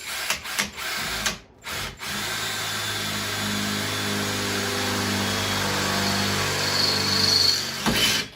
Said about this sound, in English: We'll go ahead and drill through these. I'm using a 5/16 drill bit.